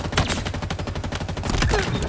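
Rapid gunfire from the Skewer weapon in the shooter game Halo Infinite, a dense burst of repeated shots filling the whole moment, loud and close with no talking.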